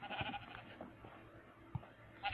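Sheep bleats from the Minecraft video game, a few short soft calls spread over a low, noisy background with no one speaking.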